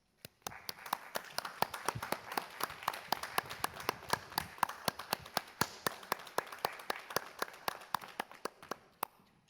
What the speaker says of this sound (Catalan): Rebem amb un fort aplaudiment al mestre director Fernando Cantó Salinas